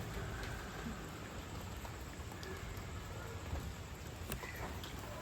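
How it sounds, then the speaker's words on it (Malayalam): Heavy rain falling steadily outdoors, a dense, even hiss of drops with no break and occasional slightly sharper spatters within the constant wash. "നല്ല മഴ പെയ്തുകൊണ്ടിരിക്കുകയാണ്"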